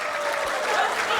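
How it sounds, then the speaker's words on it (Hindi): Applause from parents in the audience at a school annual day, a short dense burst of steady clapping filling the hall. "जब तक मेरा हाथ ऊपर है तालियां बजनी चाहिए"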